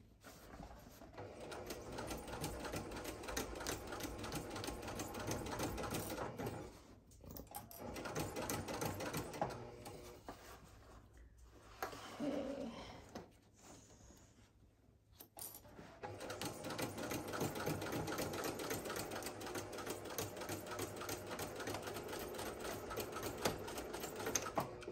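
A sewing machine stitches a handle end onto a fabric tote bag in a rapid clattering run. Brief pauses in the middle let the fabric shift before sewing resumes steadily.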